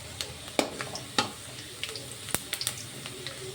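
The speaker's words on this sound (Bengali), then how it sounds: "পেঁয়াজটা লাল করে ভেজে নেব।" Chopped onions fry in mustard oil in a hot kadai with a soft, steady sizzle, punctuated by sharp clicks and scraping taps of stirring, close and fairly quiet.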